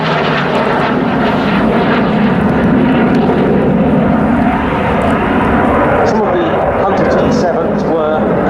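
Canberra PR9 jet flying an oblique, parabolic loop at an RAF Waddington air display roars loudly and steadily throughout, a broad continuous engine rumble with the pitch shifting slightly as it climbs and turns.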